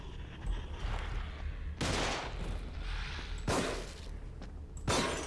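Gunfire from an armed enemy in The Evil Within, a few loud sharp bursts spaced a second or two apart over a low background rumble.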